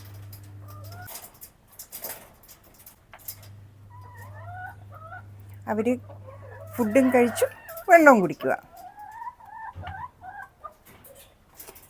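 Laying hens on a poultry farm give short, intermittent clucks and chirps close by, while a person talks over them and a low steady hum runs through part of the scene.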